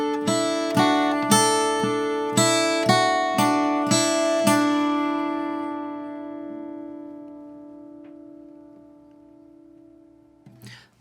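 Acoustic guitar picking the old-time tune Ducks on the Millpond, with the pinky held down: about eight evenly spaced plucked notes ring out, then a long sustained decay into near silence, with a faint final pluck at the end.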